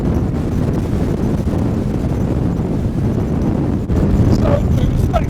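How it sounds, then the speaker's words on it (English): Roaring mountain wind at about 90 mph pounds the microphone in a whiteout in the Lake District, a loud, continuous low rumbling buffet that barely lets up and surges again near the end. "That wind is just crazy. It's literally blowing us off the mountain."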